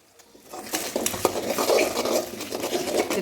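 A spoon stirs a mixture in a pot, making a close scraping, clinking swirl that builds from quiet and keeps going unevenly, with soft tapping against the metal.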